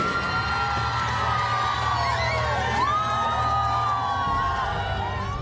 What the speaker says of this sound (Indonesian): Pembukaan paksa gembok pagar SDN Utan Jaya ini langsung disambut teriakan kemenangan oleh orang tua murid.